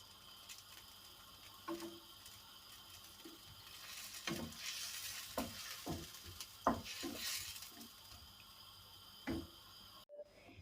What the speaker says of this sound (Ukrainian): Бачите, воно вже в мене почало кипіти.